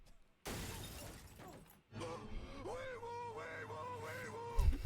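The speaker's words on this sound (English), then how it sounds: "his windshield is smashed by someone unseen" A car windshield shatters in a sharp crash of breaking glass, followed after a short gap by loud music and voices carrying on in the background.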